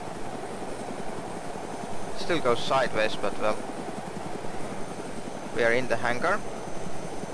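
A helicopter engine in the video game ArmA 2 idles in a hangar with a steady, low droning hum, while someone talks over it in two short stretches.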